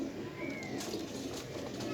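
Numbered pigeons coo low and soft beneath a constant rumbling background noise, the calls faint and continuous.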